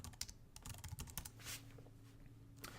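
Quick bursts of keystrokes on a computer keyboard as a search is typed, clicking in an uneven rhythm for a few seconds and then trailing into a quieter pause with a steady low hum underneath.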